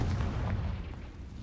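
A Confringo blasting spell explodes in Hogwarts Legacy, a deep rumbling boom that is already loud and sustained, then slowly fades out, with no talking.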